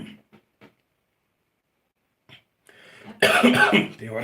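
A single harsh cough bursts out near the end, preceded by a few faint short sounds and near silence; no talking.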